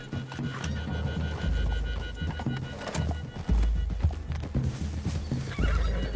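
Horses walking through a wooded clearing in the video game Red Dead Redemption 2, with steady clip-clop hoofbeats, snorts and whinnies close by under game music and ambient sound.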